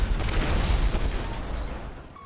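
A grenade blast triggered through a GTA 5 mod menu's explosion editor, a loud booming burst with heavy low rumble that rolls on continuously and fades slowly toward the end, with no talking.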